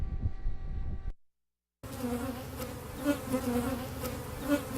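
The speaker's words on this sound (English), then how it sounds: "They're the buzzing, honey-making insects with a painful sting" Honey bees buzzing close by in a dense, continuous drone with wavering pitch, after a short burst of another hum and a gap of silence.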